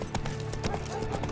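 Roach, Geralt's horse in The Witcher 3, clip-clops with a steady run of hoof strikes at close range, set over a continuous low game ambience and a faint background hum.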